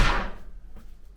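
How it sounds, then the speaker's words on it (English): A house door kicked shut lands with one sharp, close bang that quickly dies away into quiet room tone. "I have to kick the door to close it"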